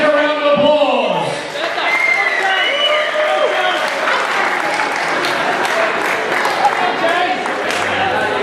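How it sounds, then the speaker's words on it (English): Steady, dense applause from a crowd at a live wrestling show, sustained and loud throughout with scattered cheers and voices mixed into the clapping. "Can we please have a round of applause?"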